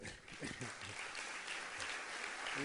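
Distant, fairly quiet applause from a political rally crowd in Spain, a continuous wash of clapping with some low voices beneath it.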